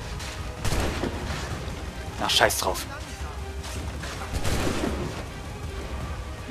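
Gunfire in the video game Assassin's Creed 3, a few booming shots and a scattered volley heard under someone talking over the game.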